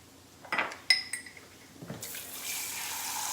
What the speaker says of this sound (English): Get some water in there. And then deglaze the pan.